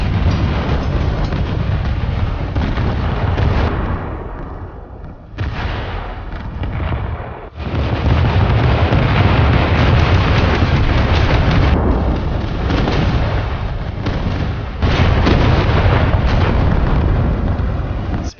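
Naval coastal defense guns fire time-fused shells of up to 283 millimeters in a war video game, with loud, booming blasts and rumbling roars that surge and ease in repeated waves.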